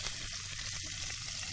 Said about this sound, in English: Oh, Brandon, let's get one more shot of this steak. It looks so nice. You can hear the sizzle, too.